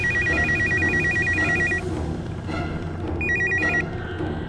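A telephone rings with a loud electronic warble, two bursts separated by a short pause, over low background noise.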